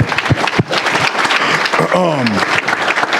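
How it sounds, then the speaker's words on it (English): Applause from the crowd at a Tablegate luncheon in Des Moines, a steady broadband patter filling the room, mixed with crowd chatter and a voice rising over it partway through. "give another round of applause for everybody that helped put this thing together"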